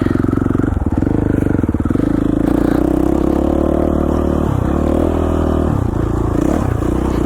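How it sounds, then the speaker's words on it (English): An off-road motorcycle engine running on mountain single track, loud and close, with a steady droning note that surges and dips as the throttle changes, accompanied by clattering and scraping. "Bike sounds a lot better."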